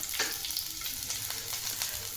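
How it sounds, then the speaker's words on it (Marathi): Chopped onion fries in hot oil in a kadhai, giving a steady, close sizzle with faint crackles and no voices. "तेल गरम झालं, त्यामध्ये आपण मोठा मोठा वाटलेला कांदा टाकून घेऊ"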